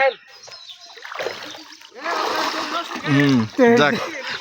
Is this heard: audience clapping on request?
no